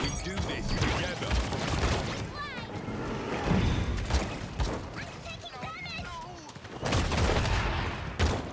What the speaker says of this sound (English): My turret's doing damage.